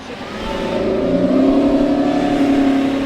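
A gray Lamborghini Revuelto approaches and its engine swells into a loud, rising rev, growing steadily stronger and closer over a few seconds with no talking.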